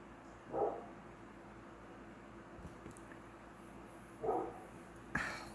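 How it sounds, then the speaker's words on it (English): A dog barks twice at a distance, short single barks spaced several seconds apart over quiet background hum. "What is he barking at?"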